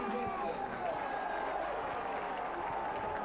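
Burnley fans applaud at a 1999 football match against Colchester United, steady crowd clapping and general stadium noise heard at a distance throughout, with a commentator's voice over it.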